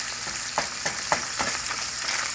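Mexican chorizo sizzles and spits in a hot pan just after being flipped with a spatula, rendering fat, with a steady bright frying hiss punctuated by a few soft scraping knocks.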